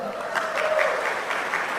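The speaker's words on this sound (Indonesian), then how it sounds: "Tepuk tangan dulu" Church congregation clapping at a sermon, a steady, even wash of applause from a crowd, with a faint voice or tone in the background.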